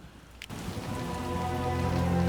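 Steady rain pours down in The Witcher: Enhanced Edition, a dense even hiss that swells slightly over a couple of seconds, with a brief faint tone near the start.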